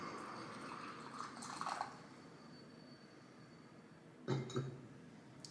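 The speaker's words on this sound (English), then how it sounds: "Having put some water in the tea bowl" Water poured into a ceramic matcha tea bowl gives a short splashing trickle with light clinks, then a second brief pour and splash, close and clear over quiet room tone.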